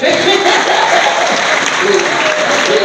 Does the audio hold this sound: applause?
yes